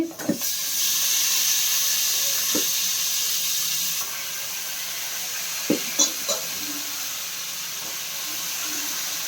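Country chicken hits a hot pan with oil and browned masala, giving a continuous loud sizzle and hiss, broken by a few sharp clatters of utensil against pan.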